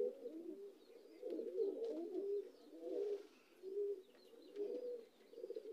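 Pigeons coo repeatedly in soft, low throaty rolls, several overlapping phrases rising and falling in a steady rhythm, close and fairly quiet with no talking.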